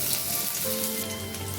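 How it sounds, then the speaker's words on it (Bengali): Grated ginger sizzling in hot mustard oil with bay leaf, whole cumin and slit green chillies for a Bengali lau chingri, a steady close frying hiss. "লঙ্কাটা একটু ভাজা হয়ে গেলে দিয়ে দিচ্ছি গ্রেট করে রাখা আদা।"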